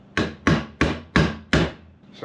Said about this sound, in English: I definitely don't think you're supposed to smack it with a hammer